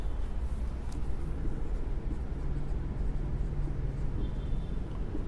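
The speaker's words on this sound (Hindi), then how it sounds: "अगर मैं प्लस लिखता हूं" Chalk or marker scratches continuously across a board during an engineering mechanics lesson, a soft, steady scraping that runs the whole time with no talk.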